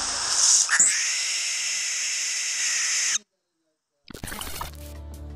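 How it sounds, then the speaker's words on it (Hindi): A barn owl gives a long, harsh, hissing screech that is loud and close and lasts about three seconds, then the recording drops into silence before a burst of other sound. "बारनाउल एक रहस्यमयी और रात में सक्रिय रहने वाला उल्लू है जिसे उसकी डरावनी और असाधारण उड़ान शैली के लिए जाना जाता है।"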